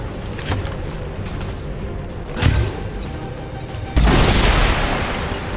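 A frag grenade going off in XCOM 2: a sharp blast near the midpoint followed by a louder, broad explosion with a lingering roar, over a steady layer of background game noise.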